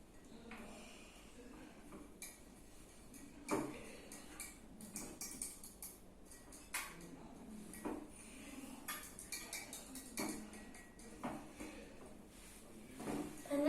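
Paint mixture stirred in a glass, light clinks and scraping taps of a utensil against the glass in irregular bursts, fairly quiet and close.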